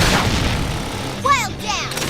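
Gunfire in the video game Xenoblade Chronicles X, a burst of rapid shots and booming impacts under game music, with a rising whistling effect near the end.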